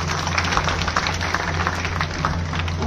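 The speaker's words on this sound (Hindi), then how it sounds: "इन सभी बच्चों के लिए जोरदार तालियां" Applause for students at a school Independence Day program in Rajiyasar, a steady crowd of hands clapping continuously over a low background hum, with no talking.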